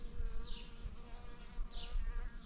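A honeybee flies near a hive, its buzzing clear and close, rising and fading as it passes, over faint low background rumble.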